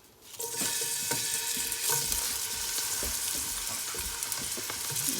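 Onions hitting a hot pan beside a venison steak, a sudden loud sizzle that swells within the first half second and then holds as a steady crackling fry with light ticks and pops, close, no talking.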